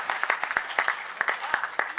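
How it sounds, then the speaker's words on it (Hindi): Clapping at a Hindi kavi sammelan poetry recital arrives as a brief burst of distinct, fairly close handclaps, unevenly spaced, with voices murmuring underneath. "जोरदार तालियां, एक बार महोत्सव दे तालियों का"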